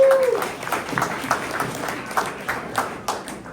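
Crowd applause at a San Francisco demo night, a steady wash of clapping with a few cheers and whoops, fairly close and filling the whole stretch before fading slightly.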